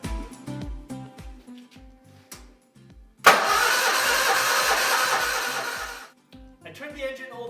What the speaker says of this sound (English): I turned the engine over now to distribute oil throughout the engine